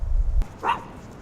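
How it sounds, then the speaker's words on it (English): A low thump, then a single short bark from a dog, moderately close, with faint background noise. "Even though she's barking, I'm still going to allow her to go up."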